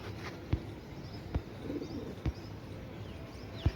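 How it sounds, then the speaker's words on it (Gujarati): Pigeons coo softly near a building where a flock is flying, with several sharp, brief sounds like wingbeats or clicks punctuating the low, continuous background. "1000 ઉડે બધા કબૂતર આમ ઉડે છે."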